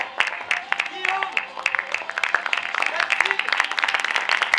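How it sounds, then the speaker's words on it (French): Audience clapping for improv performers at an improv-week show, a dense, steady patter of applause throughout with a few short voice sounds mixed in. "Vous pouvez les applaudir, ils ont joué pour vous ce soir"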